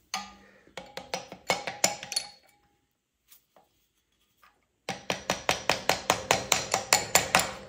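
Hammer striking a part during the tear down of a VW Bug engine: a quick series of sharp metallic blows, a pause with a couple of faint taps, then another fast run of evenly spaced, ringing hits, all close and loud.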